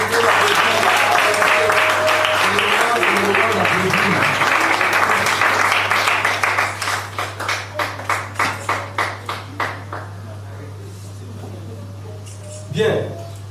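Audience applause at an entrepreneurs' certificate ceremony, dense crowd clapping that slows into rhythmic unison claps before fading to quiet, with a voice talking over it and a low steady hum beneath.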